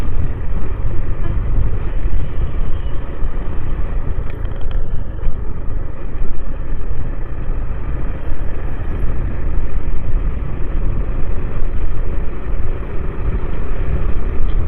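A steady, loud rumble of passing road vehicles near Pattukkottai new bus stand, Tamil Nadu, engines droning continuously with no pauses and no voices.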